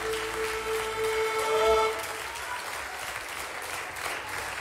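Live concert audience applause at a show, a dense, sustained wash of clapping that swells briefly and then holds steady, with a faint sustained tone ringing beneath it early on.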